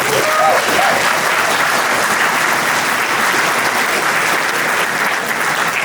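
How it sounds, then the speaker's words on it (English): Sustained crowd applause fills a fundraising event for Albanian and American communities, steady and loud throughout with brief voices audible early on. "Let's give him a round of applause."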